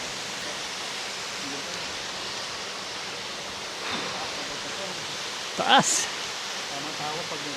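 Constant broadband rush of Hulo Falls, a tall waterfall among large rock mountains in Cavite, heard from nearby as a steady hiss, with a brief word spoken and a short sharp noise near the end.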